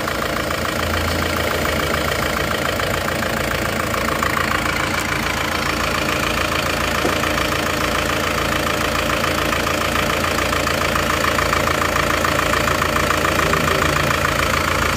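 A Panther car engine idling steadily, a continuous dense mechanical hum with a faint knocking texture, close and loud throughout with no voices.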